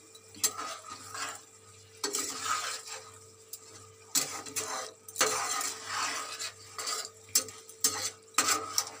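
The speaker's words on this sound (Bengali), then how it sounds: "মাছগুলো এরকম করে উলট পালট করে" Pieces of fish being fried in a pan are turned over, with repeated scraping and clinking of a utensil against the pan over a steady sizzle.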